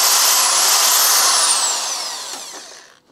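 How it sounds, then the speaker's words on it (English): A corded power drill runs on the output of a repaired inverter after a lightning strike, whining steadily at high pitch close by, then spinning down and fading to a stop after about two and a half seconds. "I'm going to plug in a drill here just to see, make sure the load works"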